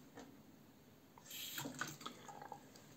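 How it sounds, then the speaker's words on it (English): A small trickle of tap water runs briefly into a sink while a face is wetted before a safety-razor shave, quiet and close with light splashing. "Just a tiny bit of water."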